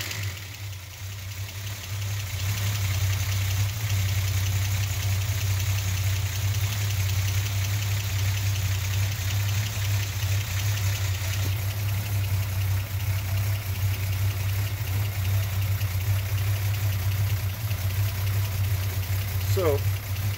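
A Slant Six engine idling while warming up, a steady low rumbling idle with a faint rhythmic ticking that runs loud and unbroken throughout, with a person talking over it.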